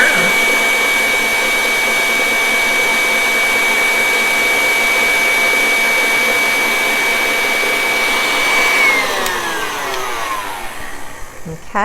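An electric mixer beats chocolate cupcake batter on high, a loud steady motor whine that holds for several seconds, then slows and winds down near the end.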